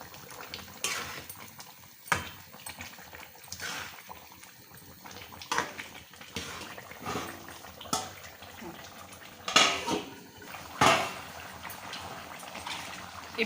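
Chicken curry being stirred in a pan after adding coriander powder and coconut powder, with soft scraping, clinks of the spoon against the pan and light sizzling, intermittent and fairly quiet.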